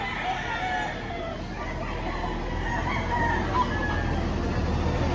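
Chickens and roosters at a Saturday poultry market in Lipa, Batangas, with roosters crowing and hens clucking through a dense, continuous crowd din and scattered background chatter.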